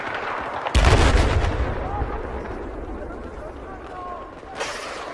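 A sniper rifle cracks loudly in a Battlefield 4 match, one sharp report followed by a long rolling boom and echo, with a second softer shot near the end and a player talking over the game.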